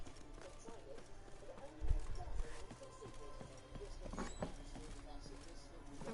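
Horse hooves from The Witcher 3 clip-clop in a quick, steady rhythm, fairly close and moderately loud, with game characters' voices speaking over them.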